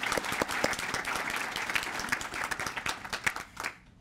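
Audience applauding city staff members at a mayor's State of the City address, a steady wash of many hands clapping that thins out and stops near the end.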